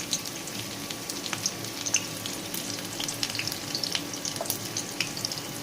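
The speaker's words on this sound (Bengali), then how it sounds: "তেল গরম হয়ে গিয়েছে, প্রথমেই দিয়ে দেব ছোট ছোট করে কুচিয়ে রাখা পেঁয়াজ" Finely chopped onions dropped into hot oil give a continuous close sizzle scattered with sharp crackles and pops, with no voices.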